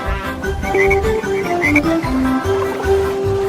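Croaking frog sounds within a children's nursery song about green speckled frogs, repeated short croaks riding over a bouncy musical backing with sung melody, fairly loud throughout.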